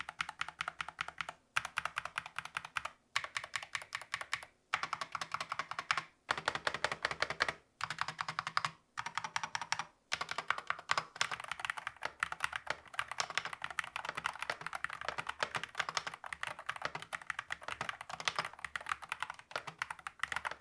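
A cheap mechanical keyboard being typed on in a steady stream of quick keystrokes with short pauses between bursts, close and clear with no voices.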